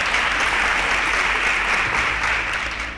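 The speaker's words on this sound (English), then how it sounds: "Round of applause for Kamsi." A quiz show studio audience claps in loud, dense applause that holds steady for a few seconds and then begins to fade.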